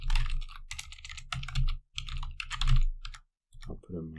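Keys clatter on a computer keyboard as a root username is typed in several quick bursts with short gaps, close and crisp, followed by a brief voice at the end.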